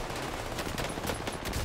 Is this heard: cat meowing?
no